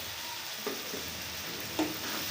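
Breakfast ingredients frying in a pan, seasoned with salt and a half spoon of sugar: a steady, moderately loud sizzle with a couple of spoon stirs and scrapes, no voices.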